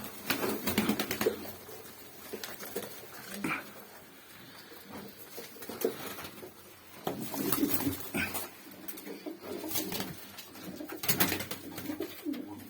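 Young tumbler pigeons just learning to fly coo softly in a loft, low throaty calls coming in bursts among faint fluttering and tapping, fairly close but quiet.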